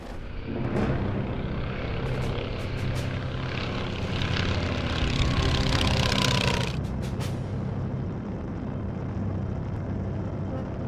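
A propeller airplane runs at an old New York aerodrome with a grass field for a runway, its engine a steady, loud drone for the whole stretch that swells slightly in the middle before easing off.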